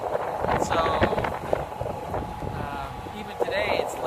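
Strong blizzard wind gusts of about 80 km/h at minus 20 wind chill roar and buffet the microphone in a continuous, loud rush of noise with surging peaks throughout.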